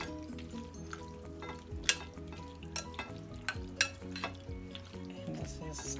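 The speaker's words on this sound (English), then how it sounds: "And as I'm stirring, I'm stirring it to give it that flavor." Evaporated milk is stirred in a hot pan, a steady soft sizzle and bubbling running throughout with light, irregular spoon scrapes and clinks, close by and with no voices.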